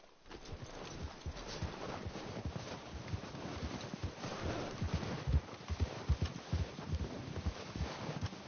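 Horse hooves in a PS4 video game clip-clop in a steady, brisk rhythm, close and fairly clear, with no talking over them.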